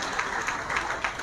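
Applause from a crowd at an outdoor political public meeting in Kannauj, dense steady clapping from many hands throughout, fairly loud with no clear speech over it.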